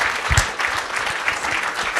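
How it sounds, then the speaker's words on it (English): An audience at an evening talk on women in exploration gives a short, lively burst of applause for the speakers, dense clapping alone without voices. "Then I want to give them a kind of a round of applause now too for sharing their stories with us."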